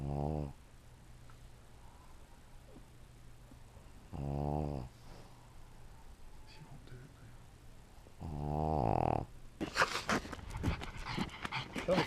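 A dog growls and snarls while attacking a man's leg, giving three separate bursts of deep, harsh growling close by. Scuffling and rustling noises follow at the end.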